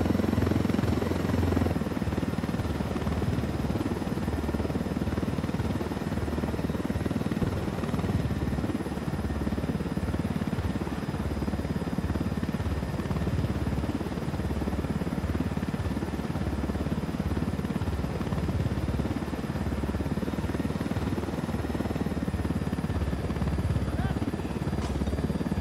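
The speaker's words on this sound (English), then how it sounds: "Nothing like swiping a helicopter to bring a day into focus." A helicopter in the video game Ghost Recon Wildlands flies with a steady, loud rotor chop and engine drone, continuous throughout with no pauses.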